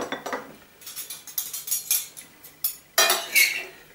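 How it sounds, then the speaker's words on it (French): Metal utensils stirring seasoned onions in a pan, a series of close, bright clinks and scrapes in an irregular rhythm, louder toward the end. "Je vais mélanger un petit peu."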